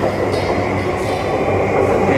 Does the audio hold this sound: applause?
no